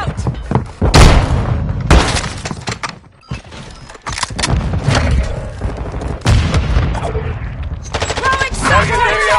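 A flashbang grenade going off in Call of Duty MW2 amid heavy gunfire: loud sharp bursts and booms with brief gaps, ending in a high tonal ringing.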